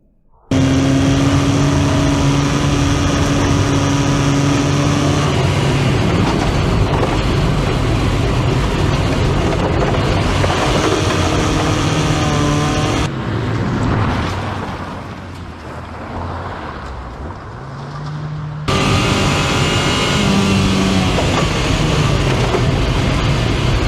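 A Volkswagen Passat B2 drives along with a loud, steady engine drone and road rumble heard from inside, the engine note rising and falling, with a quieter stretch partway through.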